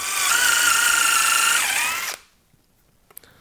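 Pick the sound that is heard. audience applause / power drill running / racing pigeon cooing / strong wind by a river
power drill running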